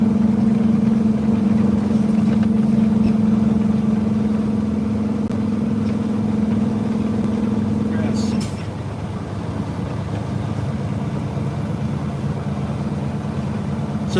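A semi truck's engine hums steadily with a sustained tonal drone, then shifts down to 11th gear as the pitch drops and the note changes, a low, even rumble continuing afterward in the cab.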